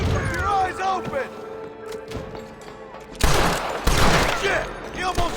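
Gunfire in the Western video game Red Dead Redemption, a burst of rapid shots and impacts under game voices and music, loudest in the second half.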